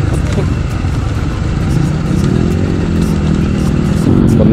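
A Royal Enfield Bullet motorcycle engine running loud and close with a steady thumping drone that rises in pitch as it revs, mixed with clatter and speech.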